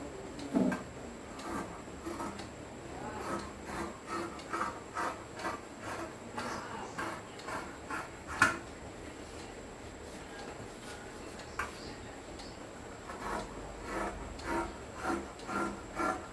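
Scissors snipping through frock nightie fabric in a quiet room, a steady series of short crisp cuts with slight rustling between them, close and fairly faint.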